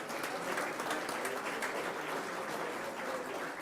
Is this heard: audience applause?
yes